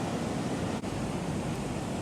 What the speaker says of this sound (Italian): la battigia sembra scomparsa sotto la forza della mareggiata